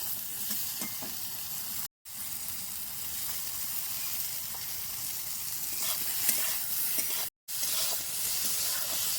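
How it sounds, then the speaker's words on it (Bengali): Eggplant pieces fry with salt in hot oil for a village-style spicy curry with mustard paste, a steady, fairly quiet hiss and crackle with occasional stirring clicks, briefly cut off twice. "নুন ও বেগুনটা ভালো করে ভাজা করে নিচ্ছি"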